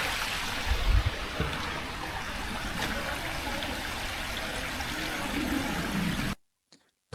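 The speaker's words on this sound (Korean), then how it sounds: "시원하다. 물 흐르는 소리가." Water flows steadily in a stream beside a shaded forest trail, a continuous close rushing wash with a brief low thump near the start, ending abruptly in near silence.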